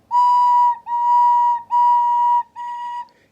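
A recorder plays four held notes in a row without tonguing, so each one starts softly and blurs into the next, with a pure whistle-like tone and short breaks between the notes.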